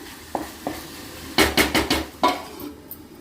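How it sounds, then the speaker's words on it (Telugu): A lid goes onto a pot of chicken fry with a few sharp metallic clanks and rattles, one after another, over a faint background hiss. "ఇప్పుడు మూత పెట్టి ఉంచుకోవాలి."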